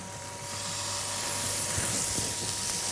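Norwegian skrei cod fillets sizzle on a hot plancha, a steady, loud hiss that builds slightly and holds, with no voices over it.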